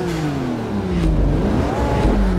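Porsche GT2 engine revving hard at a race start in Forza Motorsport 3, a loud, close, continuous roar with pitch rising and falling through the throttle blips.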